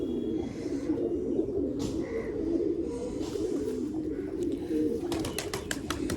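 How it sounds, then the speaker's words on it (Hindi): Soft cooing of a Surkha pigeon over a steady low rumble of background noise, with a few sharper chirps and taps near the end. "सुरखा कबूतर है अपना"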